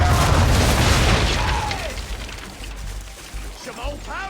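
Ship cannons firing a broadside in the Assassin's Creed III video game, a loud booming blast that rolls and decays over a couple of seconds, followed by quieter crackling and distant bursts.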